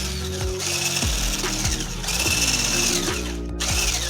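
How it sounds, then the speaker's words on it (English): An electric hand whisk creams butter and sugar together for a giant cookie dough, a steady loud motor whine with rattling, shifting pitch as the beaters churn through the mix. "we will get our little electric whisk, because that is what we like in baking"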